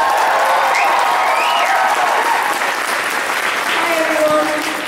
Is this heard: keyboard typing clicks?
no